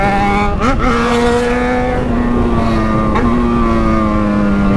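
A Yamaha XJ6 motorcycle engine whines loudly at high revs as it accelerates hard, the pitch dipping briefly at a gear change and then climbing and holding steady, close to the recording.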